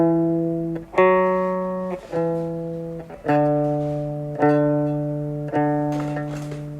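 Electric guitar playing a song's bridge with ringing harmonics, a repeating pattern of sustained notes each struck anew roughly every second and left to decay, clear and close with no talking.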